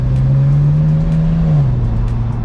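A turbocharged BMW E92 335i N54 engine idles with a steady hum, revs briefly with its pitch rising and holding as it builds boost, then drops back down; close and loud, no voices.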